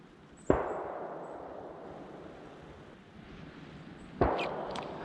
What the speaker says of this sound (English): just someone using an axe that sounds like a gunshot until you watch the video